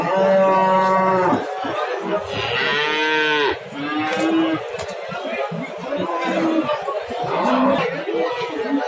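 Cattle, including a large bull, low loudly and repeatedly, long drawn-out moos close by, with people chattering in the background of a busy livestock market in Kashkar Kyshtak.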